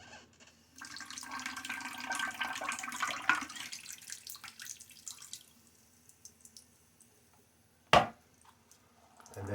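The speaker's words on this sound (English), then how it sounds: "let's go ahead and start trickling in some water" Water trickles into a shaving bowl in a soft, uneven stream with small splashes, fading to faint dripping and then a brief sharp clink near the end.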